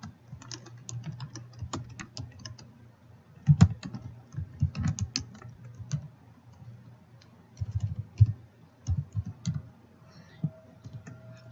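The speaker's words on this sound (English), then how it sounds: "I'm going to type in a 1 period space, and I'm going to type in this information" Keys clatter on a computer keyboard in uneven bursts of typing, close and fairly quiet, with short pauses between runs of keystrokes and no talking.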